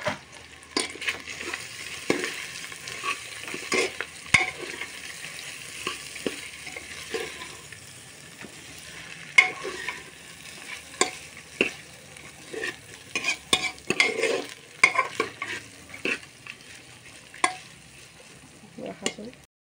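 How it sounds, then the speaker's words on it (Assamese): Rice grains frying in ghee for a milk-based Janmashtami sweet, a soft close sizzle broken by frequent scraping stirs and light clinks of a spoon in the pan, fairly quiet and with no voices. "এতিয়া চাউলখিনি ধুনীয়াকৈ মই ভাজি ল'ম ঘিউত।"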